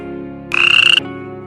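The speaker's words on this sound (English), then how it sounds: "Toad." A single toad croak, a loud burst of rapid rattling pulses lasting about half a second, heard alone against a steady quiet background.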